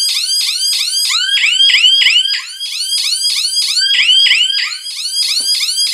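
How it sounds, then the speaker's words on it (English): An escape-room time bomb prop blares its electronic siren after the countdown expires, a loud, rapid repeating warble of falling sweeps that continues steadily, close and alone. "after the timer ran out and the siren turned on"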